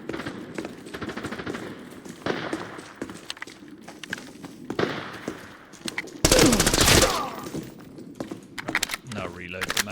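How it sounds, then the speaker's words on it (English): Gunfire in the game Arena Breakout Infinite crackles in scattered shots and bursts, with a loud sustained volley partway through, alongside footsteps and a person talking. "there are a few shots going on in and around our location"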